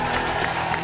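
A brief burst of dense studio-audience applause on a comedy talk show as the Indian women's cricket team is welcomed, a steady wash of clapping with no pauses.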